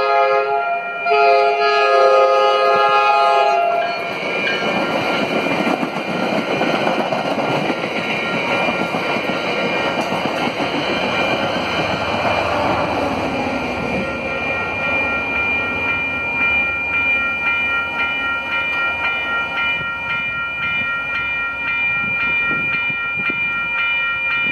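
An MBTA eastbound commuter train sounds its horn with long sustained blasts, then rolls through the Main Street grade crossing in Ashland, Massachusetts, with a loud continuous rumble and rattle of cars passing close by.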